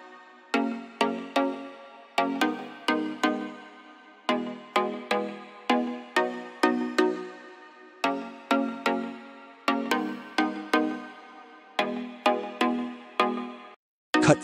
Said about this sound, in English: make a pluck chords and add some rhythm.